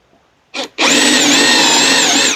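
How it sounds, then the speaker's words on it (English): A Ryobi power drill bores a hole in wood, a short initial burst followed by a loud, steady, high-pitched whine that runs close-up for almost two seconds. "I think I'm going to use this drill bit right here. Drill a hole."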